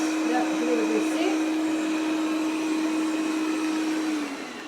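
Ultenic TS1 robot vacuum-mop running with a steady motor whine and airy suction hiss, holding constant and then dropping in level near the end as suction power is lowered, with no voices.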